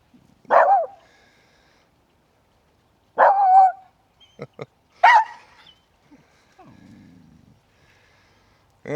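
A female dog barks at a man and three dogs passing on the opposite bank, giving a few loud, spaced bursts of barking with quiet gaps between them.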